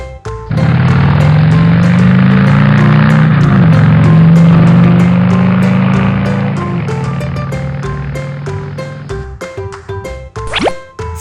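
A motorcycle engine roars up close, climbing in pitch, dropping briefly at a gear change, then humming on and fading, with plinking musical notes over the end.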